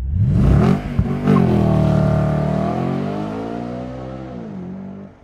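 Audi RS5 V8 engine revving on launch control, a loud deep rising roar that peaks early, then settles into a steady held drone that slowly fades.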